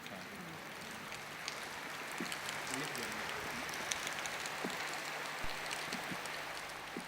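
Rain falls steadily on a board outside a school, a soft dense patter with scattered sharper drop ticks, fairly faint and without talk.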